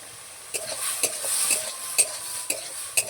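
Tomatoes and turmeric being stirred in a frying pan, a soft sizzle under sharp, regular scrapes of a utensil against the pan about every half second, close and fairly quiet.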